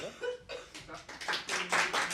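A few people clap in irregular bursts at the close of a Spiritist Day talk, the claps fairly close and moderately loud, with faint laughter or murmuring mixed in.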